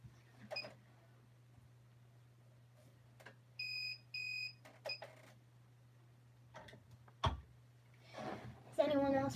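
A mug printing press machine gives a short run of loud electronic beeps, a few spaced tones in close succession, amid quiet workshop handling sounds and a low steady hum.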